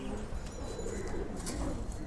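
Flying pigeons in a loft coo softly and repeatedly, low throaty calls overlapping with a few faint chirps against a steady background.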